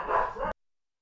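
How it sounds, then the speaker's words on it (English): A single short dog bark, loud and close, cut off abruptly and followed by silence. "He's barking."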